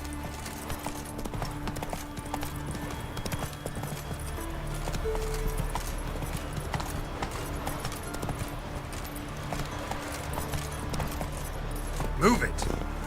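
Roach the horse galloping in The Witcher 3 video game, with rhythmic clip-clop hoofbeats running steadily under game music and a voice talking.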